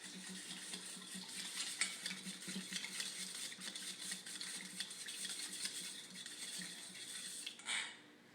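A tiny whisk quickly mixes a honey lime glaze in a small bowl, making rapid, fine scraping and clinking that runs steadily and fairly quietly for several seconds before stopping abruptly.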